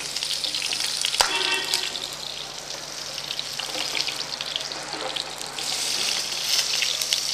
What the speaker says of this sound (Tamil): அடுத்த சைடு இதே மாதிரி நல்லா கோல்டன் ப்ரௌன் அண்ட் கிறிஸ்பாக வர அளவுக்கு நல்லா இதையும் வறுத்துடுங்க.